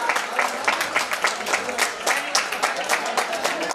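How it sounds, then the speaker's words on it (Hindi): An audience at a poetry gathering of visually impaired poets breaks into steady, dense applause in welcome, many hands clapping together at close range for several seconds. "अपना जोरदार तालियों के साथ स्वागत किया जाएगा"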